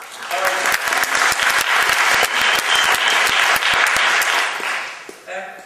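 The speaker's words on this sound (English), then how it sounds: "Smashing applause, please" Loud, dense applause fills a design event hall, a large crowd clapping steadily before it breaks off near the end.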